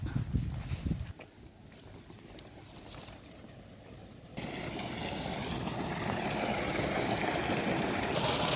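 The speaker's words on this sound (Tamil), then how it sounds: "இங்கே தண்ணி ஓடிட்டு இருக்கு" A steady rush of water flowing from a well through a coconut grove fills the scene, growing louder partway through, with a brief rustle at the start and no voices.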